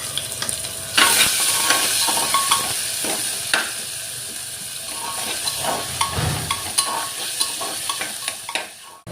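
Chopped onion, green chilli and grated ginger frying in oil for a mutton fat khichuri, a close steady sizzle broken by repeated scraping and clinking stirs of a spatula against the pan, no talk.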